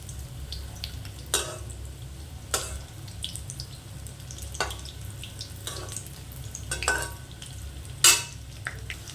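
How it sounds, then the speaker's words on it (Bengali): Chicken pieces fry in oil with a continuous low sizzle, broken by several clattering scrapes and spatters as they are turned and lifted out. "মুরগিটাও ভাজা হয়ে গেছে নামিয়ে নেবো"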